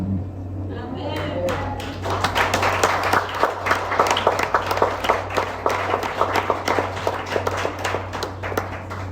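A church congregation claps, scattered at first and then settling into a steady, fairly rhythmic run of applause over a constant low hum, with some speech mixed in.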